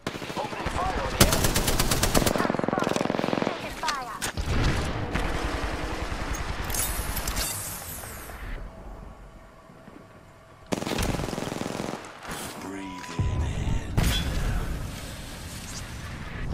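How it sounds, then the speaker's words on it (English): Video game gunfire rattles in long rapid automatic bursts with scattered single shots and a sharp crack, loud and close, broken by short lulls and layered with game effects and brief talk. "Opening fire on the enemy."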